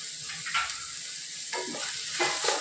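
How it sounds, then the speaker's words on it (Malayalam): Grated carrot, onion and finely chopped beans sauté in a pan, giving a steady close sizzle broken by a few scraping stirs. "അത് നല്ലോണം വഴച്ചെടുക്കാം"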